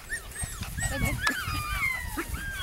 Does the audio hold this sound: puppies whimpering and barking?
yes